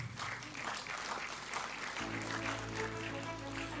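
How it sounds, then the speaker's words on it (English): An award ceremony audience applauds a World Sustainability Leadership Excellence Award presentation, a steady wash of clapping throughout, joined partway by a sustained musical tone underneath. "Ladies and gentlemen, a round of applause, please."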